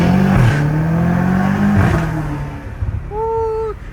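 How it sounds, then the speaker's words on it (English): A downpiped BMW M5 Competition V8 rumbles loud and close, swelling through revs with a brief lift and a whistling turbo spool rising near the end. "The turbo spooling off is like legit everything, bro, to this freaking car."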